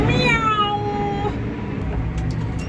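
A single drawn-out cat meow, loud and close, rising then falling before fading into quiet background noise.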